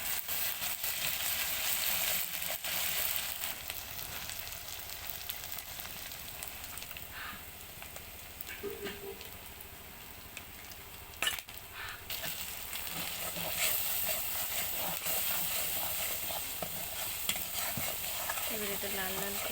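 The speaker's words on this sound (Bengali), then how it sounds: "এটা লাল লাল করে ভেজে নেব।" Frying in a little oil in a pan: a steady close sizzle with occasional stirring scrapes and clatters, continuous and fairly quiet throughout.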